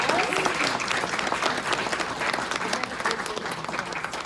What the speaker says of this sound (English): let's give our panelists a huge round of applause